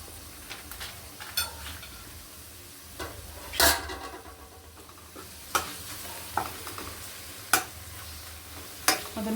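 Ginger garlic paste fries with chopped onions in a pan for palak paneer, giving a steady low sizzle broken by sharp scraping stirs from a spoon every second or two, with no voices.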